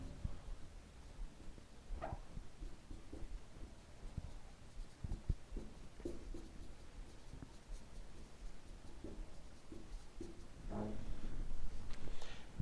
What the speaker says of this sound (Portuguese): Vou escrever, ó.